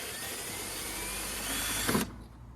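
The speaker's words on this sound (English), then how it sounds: "No idea what I'm even drilling into" A power drill whines steadily and close while boring into the body of a Ford Ranger pickup truck, then cuts off abruptly, leaving a quiet room tone.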